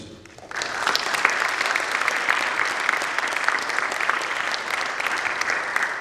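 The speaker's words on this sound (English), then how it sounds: "I'd like to give you guys a round of applause" Steady audience applause fills the room at a school athletic signing day for winter and spring sports, starting suddenly after a brief quiet moment and holding dense and even throughout.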